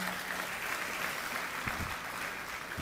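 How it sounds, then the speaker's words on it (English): An audience at a yoga festival gives a round of applause, steady and somewhat distant clapping that holds at an even level throughout, with a faint low murmur underneath. "let's have a big round of applause for Swamiji's guidance to all of us."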